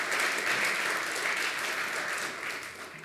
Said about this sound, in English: So let's give Mr. Muratore a big round of applause.